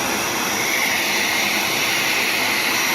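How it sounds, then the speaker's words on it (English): A shop vacuum runs steadily while a grinding stone on a Riedell Imperial 950 skate sharpener is being dressed, producing a constant loud broadband whoosh with a faint high whine, close by and unbroken. "I'm turn the vacuum off here for a second."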